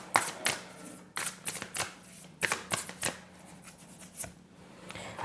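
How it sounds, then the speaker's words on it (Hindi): Tarot cards shuffled by hand in a series of crisp riffling bursts and soft slaps, close and fairly quiet, with brief pauses between handfuls. "let me pull out one more card for you cancer sign"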